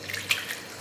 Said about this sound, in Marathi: चांगलं धुवून घ्यायचं आहे